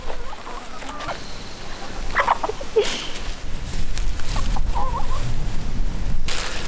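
Chickens cluck and murmur in short bursts around a farmyard in Halls Gap, Victoria, moderately close over steady outdoor background noise, with no talking.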